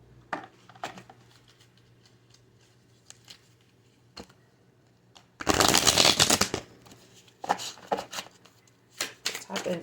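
A deck of cards shuffled once in a brief, close riffle burst, followed by scattered light taps and card handling.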